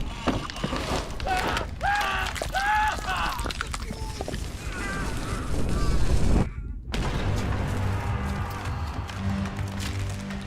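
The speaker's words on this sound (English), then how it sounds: "So I hear Abraham Akbar dying, the fuse, sounds of effort, then cannon firing, and Christian Wolff dying." Game scene aboard the ship Obra Dinn: dying cries and effortful grunts from men, a hissing fuse, then a heavy cannon blast, with a short silence before lingering rumbling and more dying sounds.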